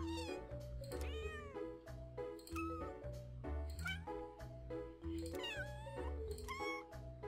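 Repeated cat meows in quick succession, clear and close, set over a looping electronic game tune in the video game Cattails: Wildwood Story.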